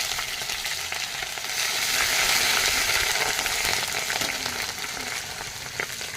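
Ginger paste frying in hot oil with bay leaves and panch phoron for a cabbage dish, a steady loud sizzle that swells slightly mid-way and continues without pause, no voices.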